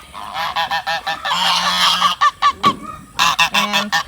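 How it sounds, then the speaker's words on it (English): Geese honk repeatedly in short, loud bursts, some overlapping into a raucous chorus, heard close by. "And there's my geese."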